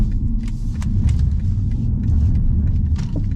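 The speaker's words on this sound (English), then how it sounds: "The exhaust has a little pop sound to it." A BMW M235i xDrive Gran Coupe turns on a road while its engine and exhaust give a steady, close low rumble, with a few brief, sharp crackling pops over it.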